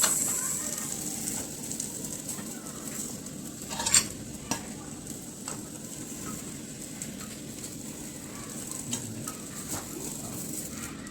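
Sweet potato and soya tikki frying in oil on a tawa, a steady soft sizzle running throughout with a few faint clinks of utensils, moderately quiet and without speech.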